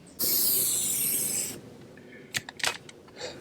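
A loud steady aerosol spray of rubber sealant onto an RV slide-out seal hisses for over a second, then stops, followed by a few soft rubbing and wiping sounds close by.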